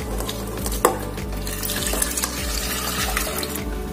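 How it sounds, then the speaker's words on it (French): Hot water is poured into a bowl while making a pumpkin-seed dish, giving a steady rushing, splashing stream with one sharp clink of a vessel early on and faint knocks throughout. "Maintenant là, je vais donc mettre l'eau chaude."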